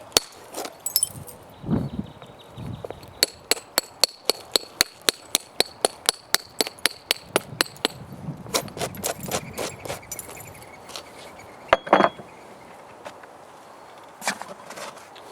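Hammerstone striking stone during primary reduction flintknapping, a long run of sharp, ringing clicks in quick regular succession, then sparser irregular knocks and taps, close and loud with little else around.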